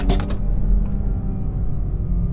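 A car drives on a road, its engine giving a steady low rumble close by, with a brief burst of rattling noise at the start and no talk.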